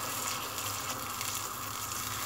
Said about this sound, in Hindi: इसके बाद हम इसमें पानी डाल देंगे थोड़ा सा, ताकि ज़्यादा लाल ना हो हमारी प्याज।